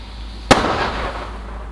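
One sharp firework bang on Bonfire Night is heard from a small outdoor rocket, followed by a short noisy hiss and crackle that fades out over a second.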